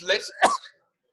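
A short, sharp sneeze-like burst in two quick bursts, close and fairly loud, followed by silence.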